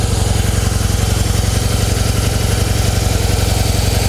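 Harley-Davidson Heritage Softail FLSTC V-twin idling through its quiet factory exhaust, a steady loping low rumble with even rhythmic pulses, close and constant throughout with no talking.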